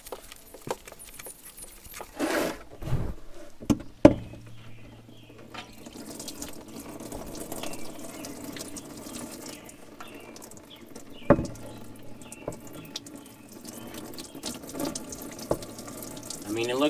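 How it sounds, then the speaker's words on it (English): Diesel fuel runs steadily out of a tank fitting on a 1965 Allis tractor in a shop, a continuous liquid trickle with a few sharp knocks and clunks over it. There is occasional faint talk. "the flow out of that fitting coming out of the tank is good"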